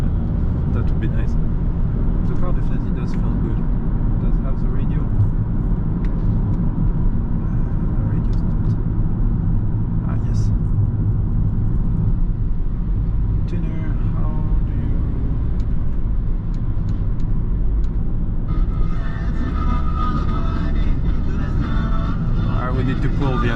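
Interior of a 1997 Honda Stepwagon RF1 automatic under way, a steady low road and engine rumble filling the cabin throughout, with someone talking over it.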